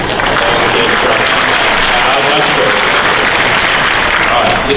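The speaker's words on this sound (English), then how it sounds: "I think a round of applause is in order for my patience, my bravery, and my thoughtful instruction" A large audience applauds at a police training class session, a dense, steady wash of clapping sustained loud and close throughout, with possible voices mixed into the noise.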